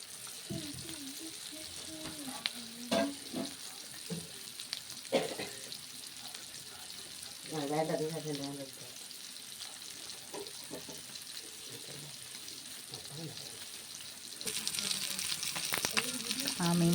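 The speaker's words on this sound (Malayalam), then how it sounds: "മീൻ വറുത്തത് റെഡി ആയിക്കൊണ്ടിരിക്കുകയാണ്." Fish, Wayanad style, crisping in a hot pan gives a steady close sizzle throughout, with brief murmured voice sounds partway and a louder burst of frying near the end.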